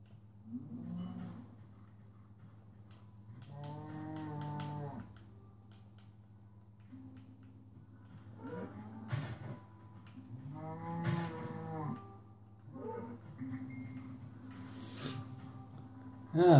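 Cow moos in the Minecraft video game, a few short synthetic lowing calls spaced across the span over a steady low background hum.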